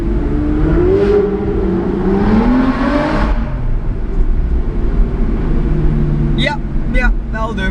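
A Mercedes AMG GTS and a Ferrari drive through a tunnel, engine drone booming and rising in pitch, loud and enclosed, with someone talking over it.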